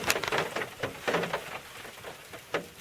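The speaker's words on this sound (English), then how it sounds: "that snow's turning to sleet and rain." Sleet and rain falling outdoors, a faint irregular patter of scattered drops and soft hiss, with occasional sharper hits, no voices.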